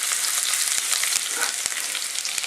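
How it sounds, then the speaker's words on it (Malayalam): Shallots and finely chopped onion sauté in a hot pan for fried rice, giving a steady bright sizzle broken by scattered sharp ticks and crackles from the spatula, close and continuous. "ഇതെല്ലാം കൂടെ ഒന്ന് വഴറ്റി കൊടുക്കാം"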